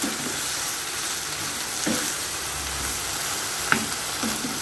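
Sweet peppers stir-frying in a pan, a steady close sizzle throughout with a few brief scrapes and taps of a spatula against the pan.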